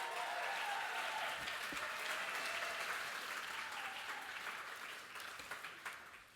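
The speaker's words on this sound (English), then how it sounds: "One more round of applause loud in this room for Roy" An audience claps steadily for Roy at a community celebration event, a dense, sustained round of applause filling the room before gradually thinning and tapering off toward the end.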